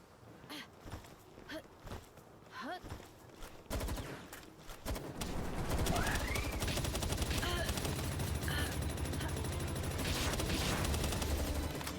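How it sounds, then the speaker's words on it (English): Rapid gunfire in Palworld Feybreak, starting as scattered shots amid game sounds and footsteps, then swelling into a dense, sustained burst of automatic fire that dominates the second half, with a voice briefly talking early on. "Quit shooting me, Gilbo."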